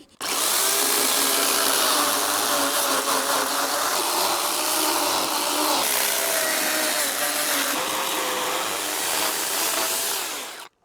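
A power saw whines at high speed, cutting steadily through wooden joists for around ten seconds, its pitch wavering slightly under load before winding down.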